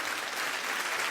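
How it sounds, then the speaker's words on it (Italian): An audience at a solidarity concert in Tonara, Sardinia, claps to welcome a polyphonic choir onto the stage, a dense, even burst of applause from a crowd, steady and fairly loud throughout. "Intanto li voglio sul palco con un bel applauso il coro polifonico Sosordinagos di Bellevue"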